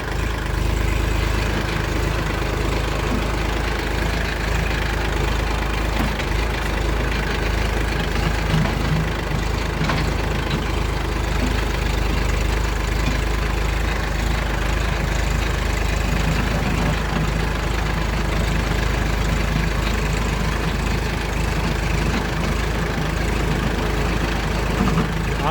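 Kubota tractor with a box blade on the front, its engine running in first gear as a steady low rumble close by, continuous and unbroken.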